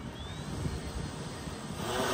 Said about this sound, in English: Yep, there goes the drone.